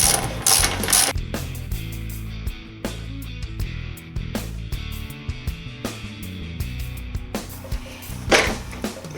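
A ratchet fitted with a 22mm socket loosens the wheel spindle on a Suzuki RF 900 motorcycle, giving a steady run of quick, close mechanical clicks in bursts, with a few sharper metallic knocks and no talking.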